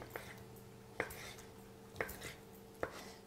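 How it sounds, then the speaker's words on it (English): A knife chops vegetables on a cutting board for paleo chicken and lime fried rice, with four sharp, evenly spaced thuds about a second apart, close and quiet. "chop these up, and you don't want them too small"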